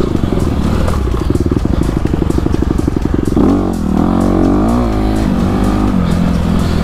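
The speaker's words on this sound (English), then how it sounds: "I'm riding a 2020 on a CRF 250 RX" A 2020 Honda CRF 250 RX dirt bike on a trail ride at Soboba, its engine loud and close throughout, with a steady throbbing drone that rises and falls as the rider changes throttle.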